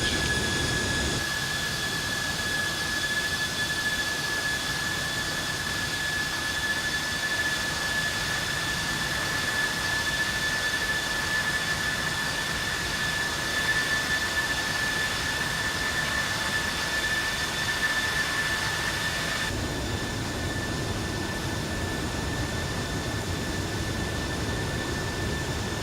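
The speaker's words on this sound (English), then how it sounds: "Another shot of Ryanair's Learjet 45, maybe new." Ryanair Learjet 45 jet engine, a steady whining roar with a sustained high-pitched tone, running continuously at moderate level for the whole stretch with no speech.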